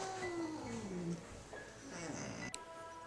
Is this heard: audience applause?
no